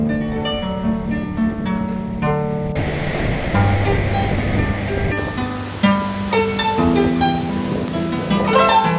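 Iguazú Falls roar at the Devil's Throat walkway in Argentina, a loud, continuous wash of water close by with no talk.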